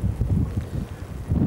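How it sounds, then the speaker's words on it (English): Gusty wind buffets the microphone outdoors in a horse pasture, a steady low rumble swelling and easing in broad waves with no other sounds. "we got a pretty windy day out here."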